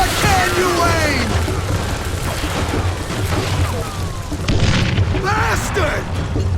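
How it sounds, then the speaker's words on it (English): Dynamite blasts in the Western shooter Call of Juarez Gunslinger come as loud, dense booms over a continuous roar of gunfire and battle noise, with shouting voices cutting through the din. "Who said you could throw dynamite?"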